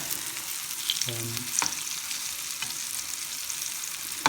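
Crispy coated savoury tofu pieces fry in a pan, a steady close sizzle and hiss running throughout with a few soft clicks as pieces are turned.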